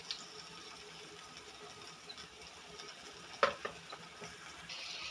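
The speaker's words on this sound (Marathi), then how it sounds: "मी चॉप केलेलं टोमॅटो ॲड केल्यानंतर ते मी मिश्रण एकजीव करून घेत आहे" Chopped tomatoes being stirred into a frying mixture in a pan on a gas stove, giving a steady faint sizzle with a few soft scraping clicks of the spoon, heard alone without talk.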